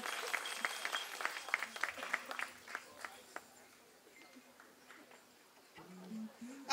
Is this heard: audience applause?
yes